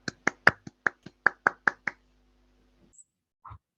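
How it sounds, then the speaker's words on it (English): Short burst of about ten sharp, evenly spaced claps from a small group or single pair of hands, fairly close, ending after two seconds, followed by quiet and a faint murmur. "Virtual clapping."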